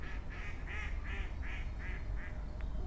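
A duck quacks at the water's edge, seven evenly spaced nasal calls in a steady run, fairly faint over a low outdoor rumble.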